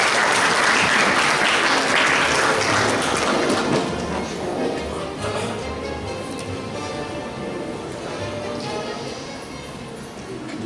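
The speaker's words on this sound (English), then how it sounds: "Let's give him a round of applause." An audience at a University of Santo Tomas closing session applauds the closing speaker in loud, full clapping that slowly fades to a thinner patter.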